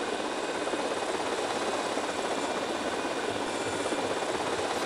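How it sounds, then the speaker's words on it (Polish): An RC helicopter flies in Grand Theft Auto: Vice City with a continuous, droning rotor and engine whir that holds steady and fairly loud throughout, with no speech over it. "To jest helikopter, moi drodzy, jakiś chujowy."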